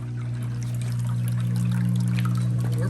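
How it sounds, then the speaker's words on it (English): Samsung washing machine pumping out dirty water, a steady low pump drone with water gushing and trickling over it, close and continuous, no voices. "We're pumping out the dirty water now."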